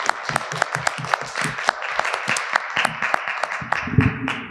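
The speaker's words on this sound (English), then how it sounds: "But round of applause for everyone." A conference audience claps for a panel of speakers, a lively burst of individual, close claps over a steady wash of applause that swells toward the end.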